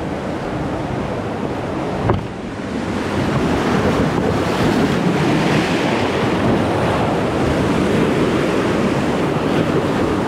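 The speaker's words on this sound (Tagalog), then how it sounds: "Di naman gaano malakas ang alon." Sea waves surge and wash continuously against a boat at sea on a day of moderate surf, with steady wind rushing over the microphone and one brief knock near the start; no one speaks.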